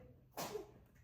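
A single tiny sneeze, soft and quick, in an otherwise quiet room.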